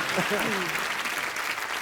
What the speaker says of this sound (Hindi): रहमान साहब के लिए एक बार जोरदार तालियां हो जाएं